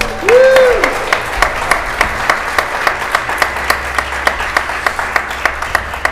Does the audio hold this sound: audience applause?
yes